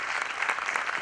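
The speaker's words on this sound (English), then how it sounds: "a big round of applause for MGLI management and MGLI students" An audience at an HR conclave anniversary event applauds for the organisers, a steady, moderately loud patter of many hands clapping throughout the short moment.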